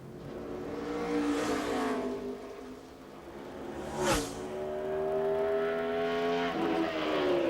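A NASCAR Busch Series race car runs a qualifying lap at Richmond International Raceway, its engine howling as it accelerates and shifts through the gears, with a sharp whoosh as it passes close by.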